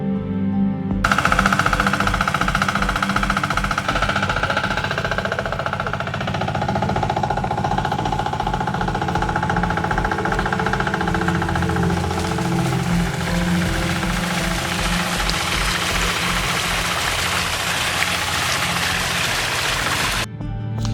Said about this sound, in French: le moteur n'a pas plus de puissance pour l'évacuation de l'eau